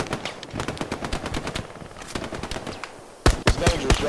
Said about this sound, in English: I'm suppressing fire